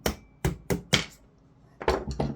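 Hammer tapping out a broken part from a disassembled LCT PP19 airsoft gun: four sharp metallic knocks in an even rhythm, a pause, then three more quicker taps, close and clear with no talk.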